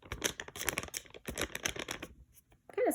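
A paper dollar bill is crinkled and rubbed between the fingers, giving dry rustling bursts that fade into a near-silent pause before one last loud crackle, all close to the microphone.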